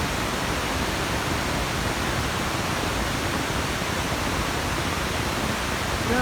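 A natural stream near Ghattichhina rushes in a dense, steady broadband wash, loud and close, unchanging throughout with no other sounds standing out.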